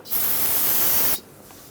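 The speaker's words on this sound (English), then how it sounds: "Using a clean rag and some brake parts cleaner, I'm going to spray down the area" A single sharp hiss from an aerosol can of brake parts cleaner, sprayed in one steady burst of about a second, close by, then it stops.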